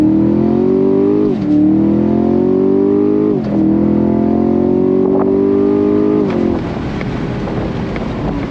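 A 2021 Chevrolet Camaro SS V8, Shock & Steel Edition, revs hard under throttle through three rising pulls broken by gear shifts, loud and close, then settles into a rougher idle-like rumble at the end.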